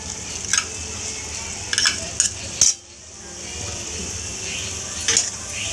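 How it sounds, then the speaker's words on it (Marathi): A spice paste fried with onion and tomato in a pan, a spoon scraping the pan in several sharp clinks over a steady low sizzle, then a brief hush before the sizzle returns. "तर हे वाटण पण छान असे परतून घ्यायचं"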